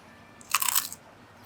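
A single loud, close crunch of teeth biting into a crisp corn cracker in Krabi, Thailand, lasting about half a second amid otherwise quiet surroundings.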